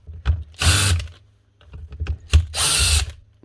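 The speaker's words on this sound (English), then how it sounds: "Says he's using an SDS drill all day long." A cordless SDS drill brought in for repair runs in two short bursts, a loud whirring, rattling hammer-action drone near the microphone with brief clicks and pauses between.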